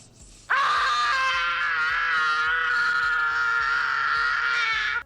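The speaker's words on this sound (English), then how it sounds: "Kevin slapping his hands to his cheeks and screaming like he had just discovered moisturizer for the first time" Kevin's famous high-pitched scream from the 1990 film Home Alone: one long, loud, sustained shriek that bursts in abruptly and holds steady for several seconds with slight wavering.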